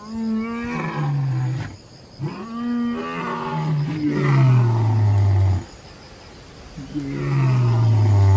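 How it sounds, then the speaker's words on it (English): An African savannah lion delivers a territorial roar: a series of deep, loud, close grunting roars that fall in pitch, repeating in rhythmic bursts with short pauses between. "A roar that thunders like rolling thunder, audible from 5 miles away."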